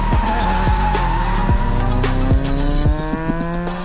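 Tires squeal and skid continuously as a car drifts in the JDM Japanese Drift Master racing game, with the engine revving hard and dropping off between bursts, loud and close throughout.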